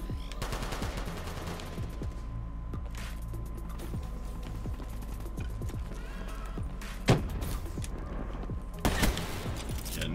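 Gunshots in a video game sniper fight, with a few sharp reports standing out over a busy, steady game soundscape, one near the end louder than the rest.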